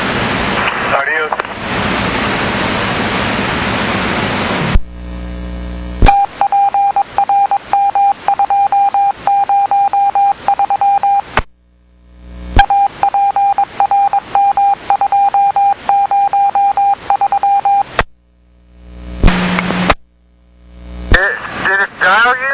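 Telephone dialing tones carried over a TriMet transit dispatch radio channel: rapid pulsed beeps come in several bursts, broken by squelch gaps and set against hissy radio static.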